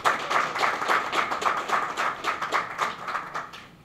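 An audience applauds for Tatiana at an education ministry workshop, steady dense clapping from a room of people, fairly close and continuous, fading slightly at the end.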